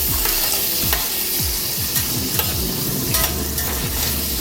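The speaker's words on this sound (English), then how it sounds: "mix it to blend the garlic, onion, and the pork" Pork with garlic and onion stir-fried in a pan for pork pochero, a continuous loud sizzle with repeated scraping strokes of a spatula, no voices.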